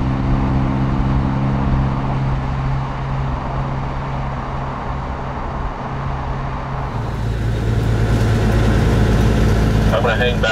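A Smith Transport semi truck's diesel engine runs steadily and loudly, with a rise in pitch partway through as it shifts up through the gears, heard close.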